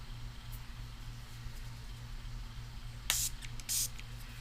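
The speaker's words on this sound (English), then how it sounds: "maybe I need more spray" Two short hissing sprays from a spray bottle onto a gel plate, one sharp burst followed by a second brief spritz, close by over a low steady hum.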